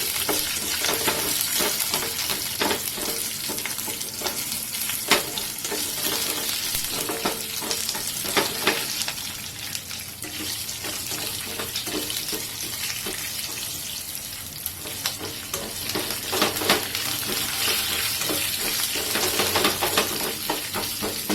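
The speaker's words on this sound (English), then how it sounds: "So just stir fry it for 2-3 minutes." Pumpkin pieces stir-fried in a pan sizzle and crackle steadily and up close, with repeated scraping strokes of the stirring spoon throughout.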